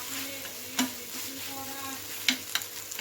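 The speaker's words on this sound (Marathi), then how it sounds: "बारीक चिरिली त्याच्यावर कोथिंबीर टाकायची मस्त परतून घ्यायचं दोनच मिनटं परतून घेऊया आपण" Tomato chutney topped with finely chopped coriander sautéed in a pan, a close steady sizzle broken by a few sharp scrapes and clinks of a spatula stirring, with no talking.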